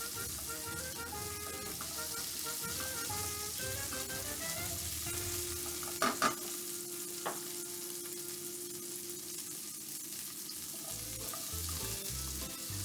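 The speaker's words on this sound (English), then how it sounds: "So it's a long and slow-ish cook for the guanciale, but it's worth it." Guanciale frying slowly in a pan on the stove, a steady close sizzle and crackle throughout, with a couple of brief utensil knocks partway and a faint hum beneath.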